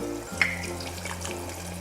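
Red wine glugs into a bubbling sauce in a pan, a brief liquid pour and splash over a low, steady simmer and kitchen hum.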